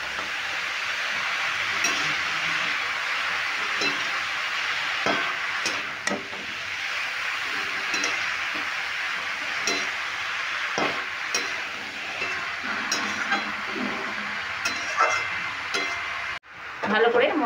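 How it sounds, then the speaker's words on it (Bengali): Sliced cabbage with spices gets stirred in a hot pan, a continuous sizzle broken by repeated scraping and tapping strokes of a spoon, close and steady, ending with a sharp clatter and sudden quiet. "এই বাঁধাকপিটা সমস্ত মশলার সঙ্গে আমি ভালো করে মিশিয়ে নিচ্ছি।"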